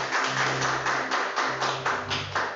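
A church congregation claps in rhythmic unison, steady repeated hand claps at a brisk even pace, close and loud, with no speech.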